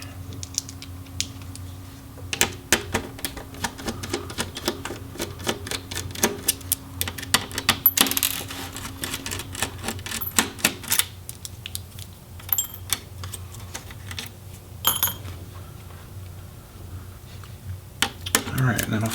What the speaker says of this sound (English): we'll go ahead and remove the screws for that DC jack